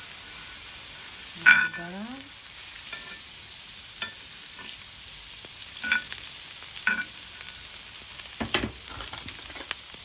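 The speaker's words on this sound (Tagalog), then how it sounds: "Habang iniihaw natin ang beef, maglagay na tayo dito sa seasoning plate ng butter." Beef steak grills while butter melts on a seasoning plate, giving a steady, faint sizzling hiss throughout, with a person speaking briefly over it now and then.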